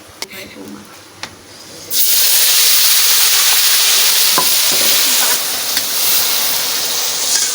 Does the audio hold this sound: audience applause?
no